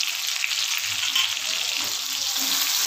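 Cumin and coriander powder fry in oil for a cabbage dish while being stirred, a close, steady sizzle with soft scraping and faint low clinks underneath.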